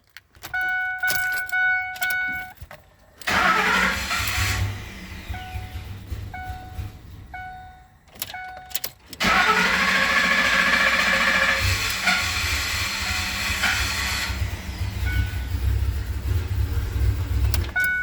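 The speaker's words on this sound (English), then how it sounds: "the truck doesn't really want to start, doesn't want to idle, doesn't want to do anything, right? Running like crap." A Ford F150 pickup with a no-start problem after power steering work cranks repeatedly in stuttering bursts, then catches and runs roughly with a loud, uneven engine rumble and hiss. No voices are heard.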